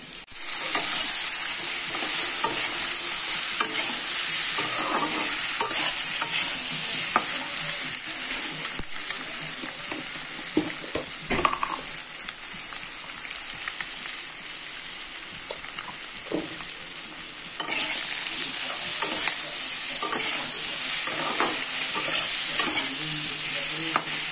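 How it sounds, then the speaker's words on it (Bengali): Eggs cooking with spices in a pan give a loud, constant sizzle, broken by frequent scraping stirs and a brief dip partway through. "ডিম কষানো শুরু হয়ে গেছে দেখো"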